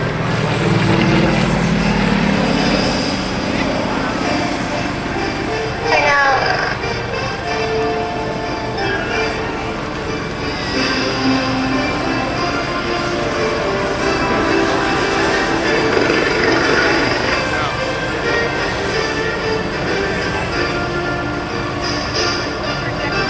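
Propeller aircraft of a formation team fly past at the 2010 Greenwood Lake Airshow, their engines a loud, continuous droning roar that swells and fades slightly over twenty-odd seconds, with no clear voices over it.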